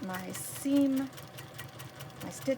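A home sewing machine stitches a quilt four-patch block in brief whirring runs, quiet and close, under a voice talking.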